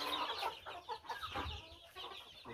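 Chickens cluck and chatter steadily inside a backyard chicken coop, a busy mix of overlapping clucks, fairly faint and close with no talk.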